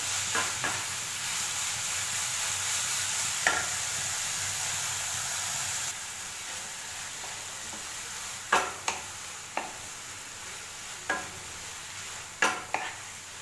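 Vegetables for a fresh spring roll filling hiss steadily in a hot pan, a continuous sizzle broken later by several sharp scraping stir strokes, with no voices.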